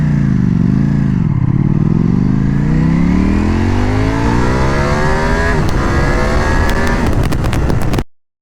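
A Ducati Panigale V4 superbike engine revs hard for a launch in sport mode, climbing steeply in pitch, loud and close, then cuts off abruptly with a few sharp crackles.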